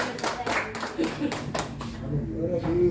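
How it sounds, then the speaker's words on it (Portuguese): A church congregation claps together during a Holy Communion service, a dense, steady patter of many hands with voices talking over it. "Salva de palmas para Jesus."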